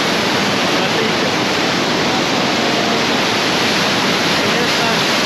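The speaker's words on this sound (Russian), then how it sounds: "подхожу максимально близко к водопаду" Loud, unbroken roar of a waterfall in Crimea heard from very close, a dense wall of rushing water filling the whole clip.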